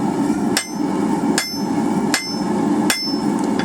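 Four evenly spaced hammer blows ring out on an anvil while forging an offset in a steel hanging hook, each strike sharp and close with a bright metallic ring over a steady background hum.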